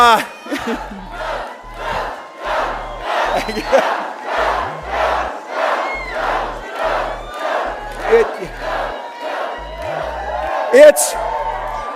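Rally crowd chanting in a loud rhythmic unison, repeated bursts of shouting voices in a steady beat with whoops over the top, filling a large space.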